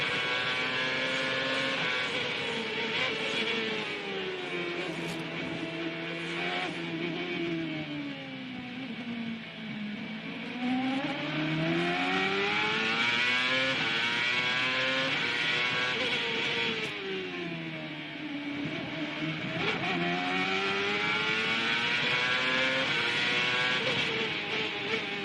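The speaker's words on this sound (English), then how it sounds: "See if we can hear the traction control at work." Onboard engine of a 2002 CART race car at speed on a concrete track patch, a loud sustained high-pitched wail that rises and falls with throttle, with traction control cutting in as a ratcheting stutter.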